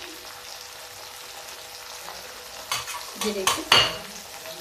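Okra frying in a pan of hot oil, a soft steady sizzle that turns into a few louder bursts of spattering and stirring toward the end, up close, with a brief voice near the start.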